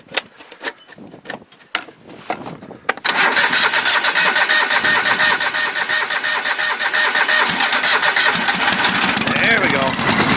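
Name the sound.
small engine with choke starting up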